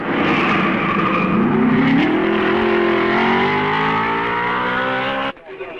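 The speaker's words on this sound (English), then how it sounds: "The cars are airborne at the summit of the Raidillon." Racing cars at the 1955 Belgian Grand Prix at Spa roar loudly near the Raidillon summit, an engine note climbing in pitch for about five seconds before cutting off abruptly.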